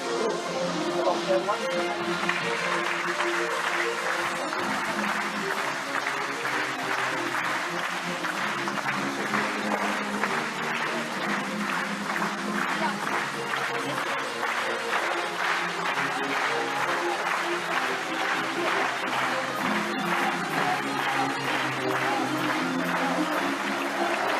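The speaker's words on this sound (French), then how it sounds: "Et tout le monde va l'applaudir." Studio audience applauding steadily throughout a French television broadcast, a dense, sustained wash of clapping at even loudness with music and voices faintly underneath.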